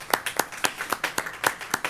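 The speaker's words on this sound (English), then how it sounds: "So let's give them a little clap job." A small group claps for presenters at a commission meeting, the individual hand claps distinct and fairly quiet in a loose, uneven rhythm.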